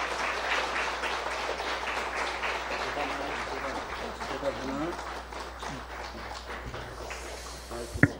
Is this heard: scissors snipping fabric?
no